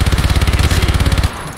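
Rapid automatic gunfire from a weapon in the shooter game Escape from Tarkov, a fast evenly spaced burst of about twenty shots over a second and a quarter, loud and close, then cutting off.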